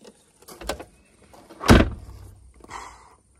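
A car door swings shut after its hinges have been adjusted, a single solid close landing mid-clip after some light handling clicks, followed by a brief rattle and quiet.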